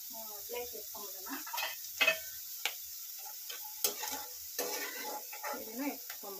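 Bitter gourd fries in oil in a pan for chutney. A soft continuous sizzle runs underneath while a spoon stirs and scrapes in irregular clinks, and someone talks over it.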